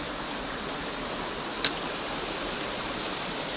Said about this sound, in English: Oh, I have running water here.